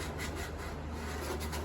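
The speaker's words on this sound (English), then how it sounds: "let me just sand it one more time" Sandpaper rubs over a repaired crack in a leaking plastic tank, a continuous close abrasive scraping for the whole stretch with no pauses.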